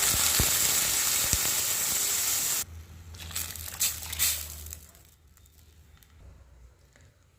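Ground spice paste for an eggplant curry hits a hot pan, giving a loud, dense sizzle that stops abruptly, followed by quieter crackling, stirring and scraping that fade out.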